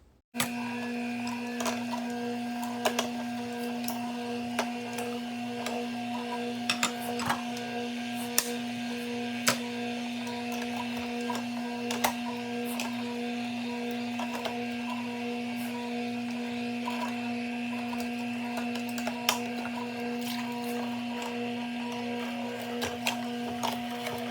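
A Nama slow juicer grinds pineapple with a steady low motor hum, broken by frequent short clicks and crunching snaps as the fruit is pressed, alone and close by.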